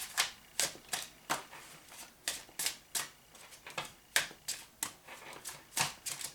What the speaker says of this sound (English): I just feel like shuffling today.